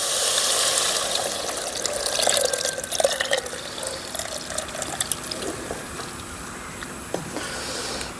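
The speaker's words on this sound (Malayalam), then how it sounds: "ഒരു വലിയ നാളികേരത്തിൻ്റെ 1-ാം പാൽ 2-ാം പാൽ ചേർന്നിട്ടുള്ള നാളികേരം പാലാണ് ഒഴിക്കുന്നത്" Coconut milk is poured into a Kerala fish curry made with fried fish, a close, continuous liquid pour that splashes and trickles, then settles into softer gurgles and drips, with no talk.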